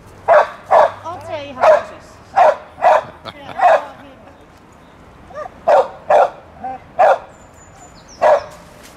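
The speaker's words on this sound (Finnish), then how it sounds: "Noille kuuluukin haukkua." Dogs barking near a field with sheep: about a dozen loud, sharp barks in uneven bursts, close by, with short pauses between volleys.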